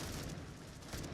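A frag grenade blast in a competitive pro-league shooter match, heard as a dense, sustained rumbling boom with crackling debris across the whole moment, loud and close, with no talk over it.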